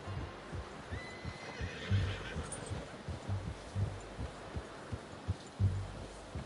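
A horse in the video game Red Dead Redemption 2 gives a faint whinny early on, while soft rhythmic hoof clip-clops and low thuds pulse steadily underneath at a quiet level.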